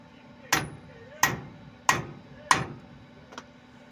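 A hammer drives a quarter bolt into the king pin of an Ashok Leyland BS4 truck, four sharp metallic strikes at an even pace, close and loud, then a fainter fifth tap.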